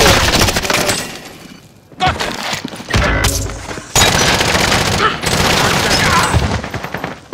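Dense, loud gunfire in Call of Duty: Modern Warfare, rapid automatic bursts broken by short pauses, with players shouting over the shooting.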